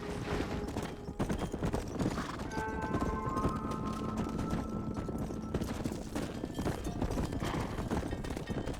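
Horse hooves clip-clop steadily while cattle are herded in Red Dead Redemption, a continuous quiet patter of hoofbeats with occasional faint whinnies and rustling and no voices.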